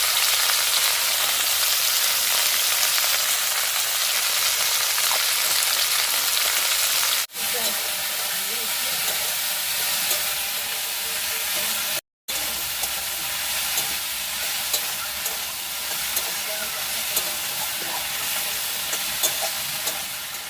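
Okra (dhenrosh), turned with haldi and salt, frying in hot oil in a pan over a smoky fibre-fuelled fire, giving a continuous loud broadband sizzle with a brief dropout midway and occasional faint crackles.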